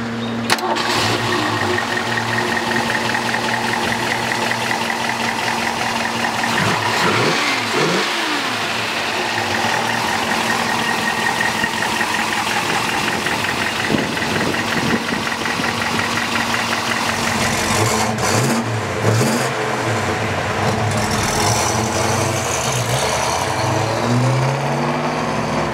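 A 1967 Ford Mustang Fastback runs loudly throughout, its engine revving up and settling as the car drives along, with no voices.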